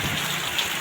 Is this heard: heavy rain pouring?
yes